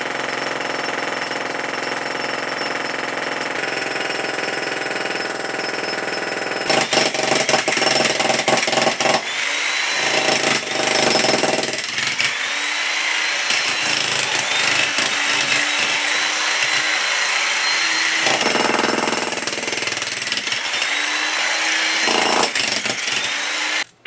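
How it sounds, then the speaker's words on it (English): Loud directional drilling machine boring through soil, grinding and rattling for long stretches, with engine whine rising and falling as it pauses and restarts. "he has to run the drilling machine back and forth to kind of make room for"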